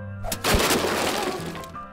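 A smashing crash from Don't Whack Your Boss, a violent office video game, as an object is slammed into a boss's face: one loud broken impact followed by a clattering, shattering tail, with no voices.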